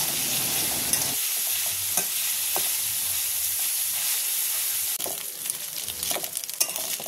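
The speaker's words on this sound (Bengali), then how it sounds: "তেলের ভিতরে মাছগুলোকে ভেজে নেব।" Dried loitta fish fries in oil with a close, continuous sizzling hiss, joined toward the end by irregular scraping stirs.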